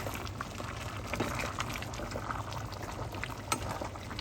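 Green chicken curry with bamboo shoots simmering in a pot, a steady soft bubbling and gurgling of liquid at close range, continuous and fairly quiet with no voices.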